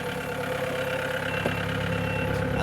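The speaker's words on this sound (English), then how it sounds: "And turning your engine 1X122." An Opel Z18XER 1.8-litre petrol engine idles steadily with a continuous mechanical hum and faint ticking, with one brief knock partway through and no talk.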